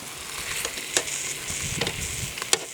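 Butterflied chicken sizzles over the fire on a Cobb grill, a steady close frying hiss with a few sharp crackles and pops scattered through it, no voices.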